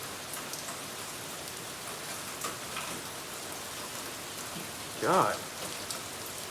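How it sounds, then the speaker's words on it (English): Rain falls outside on a hazy day, a steady close patter of drops on surfaces throughout, with a brief spoken word and a short louder tonal sound near the end. "It's hazy and raining outside too."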